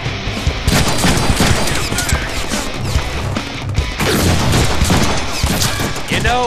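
Rapid gunfire from the Deadpool video game crackles in dense bursts with heavy impacts and crashes, loud and close, and voices come through between the volleys.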